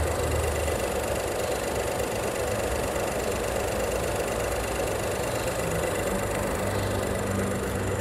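A Proton X50 three-cylinder car engine idles steadily with a continuous low, slightly uneven rumble and mechanical clatter, close by and unbroken throughout.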